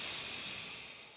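A soft, airy inhale through the nose during a breathwork practice, one smooth hissing breath that slowly fades, quiet and close with no voice over it.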